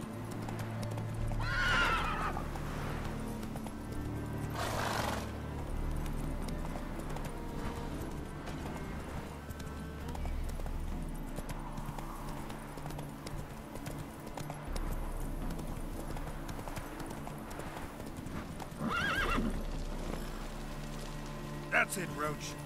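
Roach, a horse in The Witcher 3, whinnies and clip-clops through a game scene, neighs rising at the start and again near the end over steady hoofbeats, light rain and low ambience.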